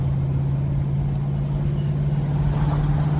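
A 1973 Ford Mach 1 Mustang with a 351 V8 cruises down the road, its engine giving a steady, close, even low drone with a firm rumble and road noise throughout.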